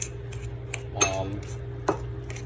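A utensil clinks and scrapes against a bowl while cinnamon seasoning is mashed and mixed, with a few sharp taps over a steady low background hum.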